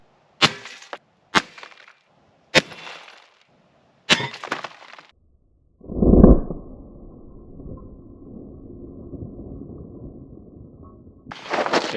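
A .22 rifle firing supersonic ammunition at a toilet outdoors in cold mountain country: several sharp cracks spaced a second or so apart, then a louder impact burst followed by a lingering rumble, and another crack at the end.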